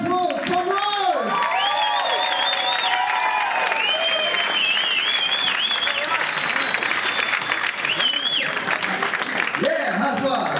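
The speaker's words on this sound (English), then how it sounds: "Big round of applause for Rhodes!" Loud, close applause from a comedy club crowd in Sydney after a stand-up show, sustained clapping mixed with whoops, cheers and shouting voices that stays thick for the whole stretch.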